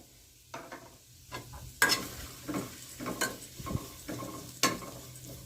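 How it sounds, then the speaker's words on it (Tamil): Rolled oats stirred and roasted in ghee in a pan for oats payasam, giving soft scraping strokes and quiet crackle, with a few sharper utensil knocks against the pan, close and otherwise quiet. "ஓட்ஸ் சேர்த்து வறுத்துக்கிறோம்"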